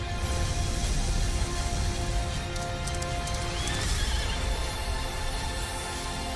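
Butt Stallion, the horse from the video game Tiny Tina's Wonderlands, neighs over a dense, loud game-trailer soundscape, with hoof clip-clops and steady rumble beneath.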